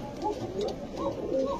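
Pigeons coo in soft, repeated low calls at a pigeon market where fancy breeds such as Pakistani teddy, chila and girebaz are sold, with ongoing talk mixed in around the birds.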